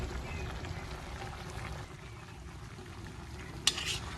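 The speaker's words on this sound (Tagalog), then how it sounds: "Akin na pong hahaluin." Chicken feet adobo with bay leaf, long chilies and other spices stirred in a pot: a soft, steady scraping and low sizzle throughout, fairly faint, with a brief sharp clink near the end.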